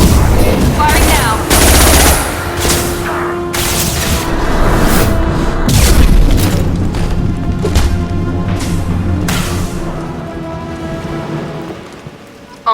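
Mass Effect 2 combat with loud, dense rapid gunfire and bursts of explosions, crackling and booming throughout with brief pauses.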